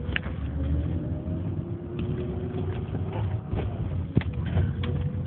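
Heard from the cabin, a BMW E36 328is with an M52 straight-six and modified inlet manifold accelerates flat out, a steady loud engine drone climbing in pitch with a few clicks and knocks.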